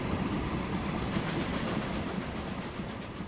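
A train rolls along in the railway-building game Transport Fever 2, a continuous rumbling roar with faint rhythmic clatter from the wheels, steady and fairly loud with no voices.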